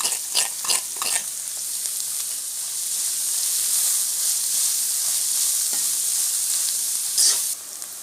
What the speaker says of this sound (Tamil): வெங்காயம் நல்லா வதங்க விட்டுடலாம்